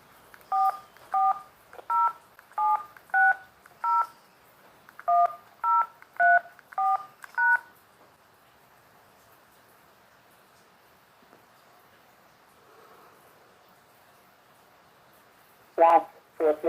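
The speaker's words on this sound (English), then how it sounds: "Please enter the 10-digit phone number you would like to be called back on" Series of short, regular telephone keypad DTMF tones as a ten-digit callback number is entered into an ADT automated phone line, clear and evenly spaced, followed by a quiet pause and a couple of louder bursts near the end.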